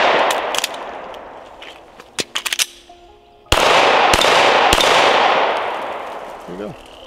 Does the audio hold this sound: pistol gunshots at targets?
yes